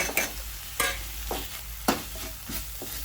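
Spice powders stirred into sautéed masala in a frying pan for egg rice: repeated spatula scrapes and clacks at an uneven rhythm over a steady close sizzle.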